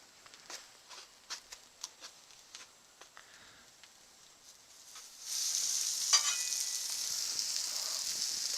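Sausage patties hit a hot Blackstone griddle and break into a loud, steady sizzle that holds close and alone, following a stretch of light scraping and tapping of a spatula on the flat-top.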